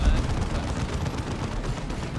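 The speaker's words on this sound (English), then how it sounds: "He's trying to kill those Devastators in the garrison with his auto pistol or whatever it is." Rapid auto pistol gunfire in the Dawn of War 2 strategy game, a dense rattle of repeated shots at moderate level throughout, with little else beneath it.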